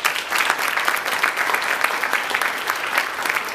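An audience applauds at a conference session, a dense, even wash of clapping with irregular peaks that holds steady for a few seconds with no talking over it.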